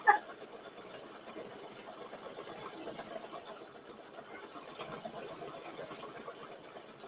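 Single-needle home embroidery machine stitching letters onto quilt fabric, a soft, steady rapid whirr that keeps running evenly at low volume, with one brief louder tap at the start.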